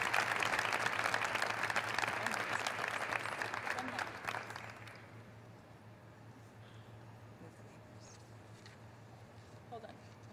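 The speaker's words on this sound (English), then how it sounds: "Bree, will you please stand for a quick round of applause?" A short round of audience applause at an honor society induction ceremony lasts about five seconds before tapering off, leaving a low room hum and faint stray sounds.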